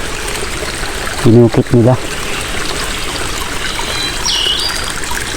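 A mountain stream flows over rocks in a steady, close, broadband rush, with a brief spoken phrase over it.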